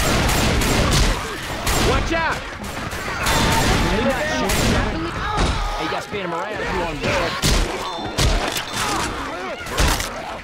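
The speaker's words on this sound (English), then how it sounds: "Can we stop shooting each other?" Rapid gunfire fills a Left 4 Dead 2 versus match: dense, overlapping bursts and shots keep up continuously at high volume, while players talk over the shooting throughout.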